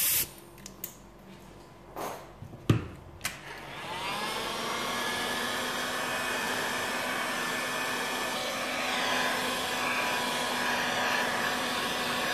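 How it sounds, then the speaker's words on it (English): Heat gun force-drying freshly printed water-based candy apple red ink, starting after a few sharp clicks and knocks, then blowing as a steady, loud whooshing roar that continues to the end. "So we're just force drying it now with a heat gun, just to help it to speed up the process."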